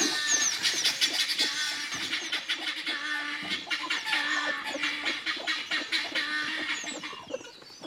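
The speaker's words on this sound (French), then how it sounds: "Vous entendez les poules qui les appellent" Hens clucking continuously as they call young pheasant chicks placed with them for rearing, a busy overlapping chorus of clucks and chick peeps at close range with no talking.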